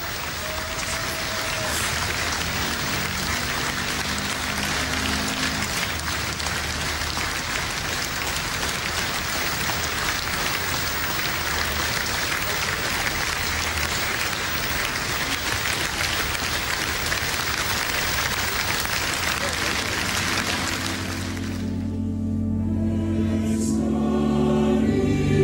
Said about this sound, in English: Impressive applause resounded during his last journey in Holland.